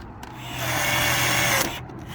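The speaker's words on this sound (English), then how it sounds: "Use my wonderful rivet gun that I love so much." A rivet gun setting a rivet through a drilled 3/16 hole in thin metal tube during an emergency repair on a 2017 Thor Palazzo motorhome, giving one sustained, fairly loud whirring burst of about a second.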